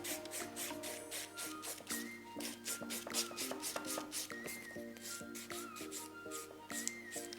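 Nail file rubbed briskly over an artificial nail tip to give the whole surface a matte finish: a steady run of quick, close rasping strokes with soft tonal music playing underneath and no talking.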